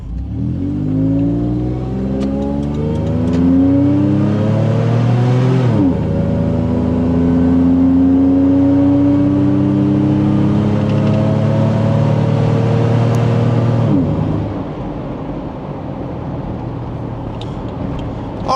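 A supercharged third-generation Toyota 4Runner engine revs up hard through rising gear pulls with a loud close whine, then eases off to a lower idle-like drone near the end.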